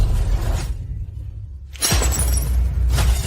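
A cup smashes: a loud crash with shattering fragments after a brief quiet gap, close and sharp, with a scattering tail that fades out.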